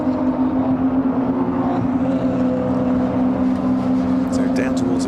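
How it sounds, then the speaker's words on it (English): Porsche Boxster Cup race cars pass on the Silverstone GP circuit, a steady engine drone under continuous commentary from a race announcer. "that's a Boxster class car going past one of the AM class machines"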